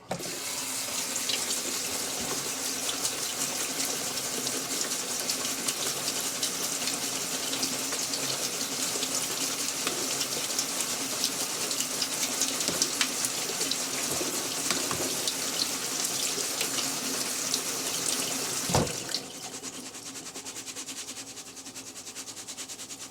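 Running water rinses a honeybee mite sample, a continuous close splashing stream like a tap into a sink that holds steady for about nineteen seconds before the flow changes and becomes softer.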